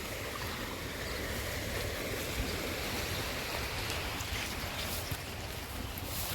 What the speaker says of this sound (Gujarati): આ છે આપણો ચેકડેમ નાળામાં બી પાણી આવી ગયું